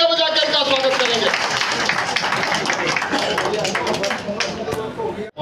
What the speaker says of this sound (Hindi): आप लोग जोरदार तालियां बजा के इनका स्वागत करेंगे